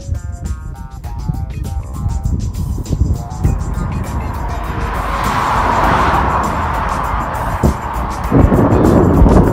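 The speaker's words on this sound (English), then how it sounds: "Traffic's horrendous today." Road traffic with cars passing by, loud and close, a continuous rushing roar that swells as a vehicle goes past mid-clip and builds again at the end, with some wind buffeting.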